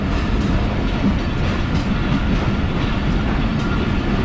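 Pak Business Express rolling along rough, poorly maintained track between Nawabshah and Tando Adam, a continuous close rumble with faint rhythmic clatter and no voices.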